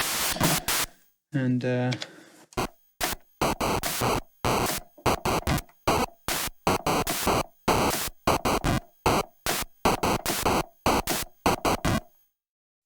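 Nintendo NES noise channel driven over MIDI through a Famimimidi cartridge, firing sharp, loud bursts of hissing static in a quick, uneven rhythm, with a brief voice early on.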